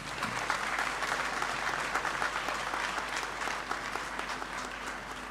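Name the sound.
audience applause at graduation ceremony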